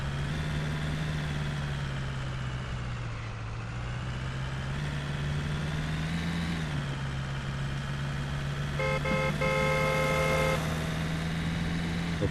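Car engine driving in a car dealer simulator video game, a steady low hum with slight pitch changes as it moves, with a brief burst of game tones near the end.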